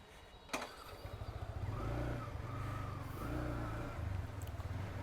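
A Yamaha R15M motorcycle engine drones and revs steadily while riding, a loud continuous rumble with rising and falling pitch and a sharp knock near the start.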